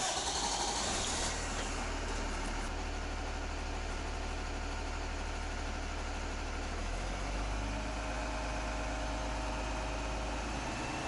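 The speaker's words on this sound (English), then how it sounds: "start the engine." A school bus diesel engine runs in a steady, loud, low rumbling idle throughout, with a slight shift in tone partway through and no voices.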